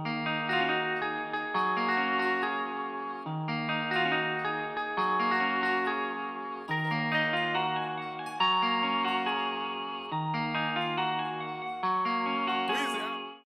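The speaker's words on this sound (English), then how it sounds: "We can bring together the three parts we have and add some reverb to try to match the original loop." Several layered, sustained guitar melody parts play together, drenched in reverb and chorus-like effects, forming a looping trap-style phrase that repeats in steady, even bars and keeps a moderate level before ending with a brief swell and sudden cutoff.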